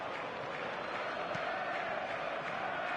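Stadium crowd in a football video game roars steadily as a broad, loud, unbroken wash of noise, with no clear breaks across the whole stretch.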